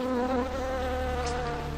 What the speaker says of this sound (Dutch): ik heb direct nog een wesp